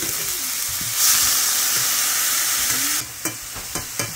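Onions drop into melted ghee in a pan for a mushroom and meat dish, bursting into a loud hissing sizzle that holds steady for a few seconds before fading, followed by a few soft clinks and stirring knocks.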